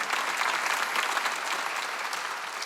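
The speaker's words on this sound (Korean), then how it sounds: "박수로 하나님께 영광하노라." A church congregation claps together during a Sunday worship service, dense, steady applause filling the room throughout without pause.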